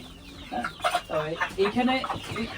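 Desi and Egyptian chickens cluck in a series of short, overlapping calls on a farm, close and moderately loud, with no talking.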